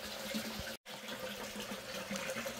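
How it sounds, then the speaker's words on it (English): Water pouring from a bell siphon in a fish tank, a steady rushing splash that breaks off briefly for an instant and then resumes, close and fairly loud, with no talk. "So you can see the bell siphon is just getting going"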